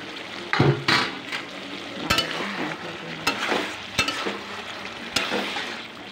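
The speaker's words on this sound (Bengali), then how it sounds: "ভেজে রাখা আলুটা দিয়ে দেবো" Fried potatoes are stirred into chicken frying in a pot, with a low sizzle broken by repeated scraping strokes and clanks of the spoon against the pan, close up and without voices.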